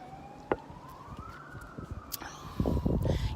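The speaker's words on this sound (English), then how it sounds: "You don't hear that a lot in Australia, the siren in the background" An emergency siren wails faintly in the background of a city street in New York City, its pitch rising and falling, while nearby clatter and a short burst of noise sit over it and nobody talks.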